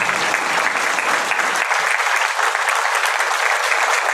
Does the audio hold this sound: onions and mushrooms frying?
no